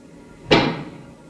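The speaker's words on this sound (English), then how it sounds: "That is the sound of a giant pick." A single heavy thud of a giant pick striking, used as a radio drama sound effect, sharp close impact that rings out and fades over half a second, with no talk.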